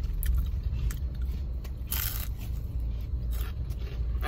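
A crunchy filled churro is bitten and chewed up close, giving a series of crackling, crunchy bursts over a low background rumble.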